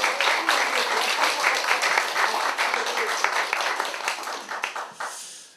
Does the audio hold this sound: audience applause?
yes